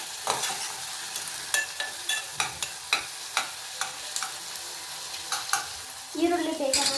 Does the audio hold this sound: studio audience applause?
no